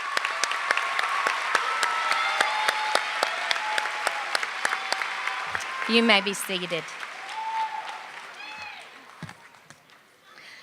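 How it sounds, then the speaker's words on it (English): A crowd at the East Ridge High School 2018 graduation ceremony applauds in a full, crackling burst of many hands, sharp individual claps standing out. It fades as a voice speaks from the podium, and the room settles. "Let's please give them a round of applause."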